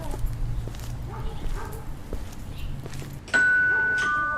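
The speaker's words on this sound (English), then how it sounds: "don't be ringing my doorbell like that" A doorbell chimes sharply near the end, a bright sustained tone after a few seconds of dog barking and yipping in a home.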